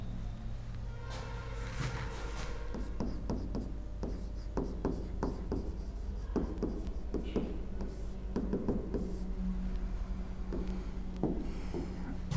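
A definition being written out on a board: continuous scratchy strokes and taps of the writing tool against the surface, close and fairly quiet over a low steady room hum.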